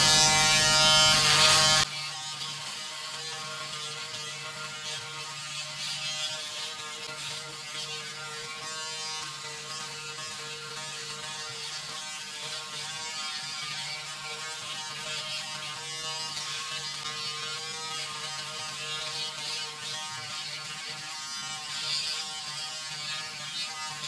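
A Braun Series 5 electric shaver on turbo mode, a loud buzz that starts abruptly, then a steady, slightly quieter hum with fluctuating rasp as it runs over stubble.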